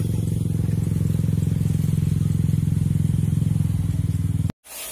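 Motorcycle engine running steadily nearby with a fast rhythmic putter, loud and close, that cuts off abruptly near the end.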